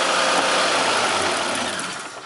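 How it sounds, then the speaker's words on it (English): A 2002 Isuzu Rodeo LS with a 3.2L V6, its fuel filter removed, idles with a loud, steady rumble that slowly fades toward the end as the engine starves and dies. "So we're going to pull this thing out and wait for the engine to die."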